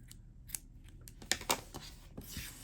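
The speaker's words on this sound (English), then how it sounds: "We're going to cut our yarn" Scissors snip through crochet yarn in a few quiet, crisp cuts spread over under three seconds, close by with no talking.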